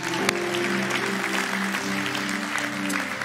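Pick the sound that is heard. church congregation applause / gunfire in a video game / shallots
church congregation applause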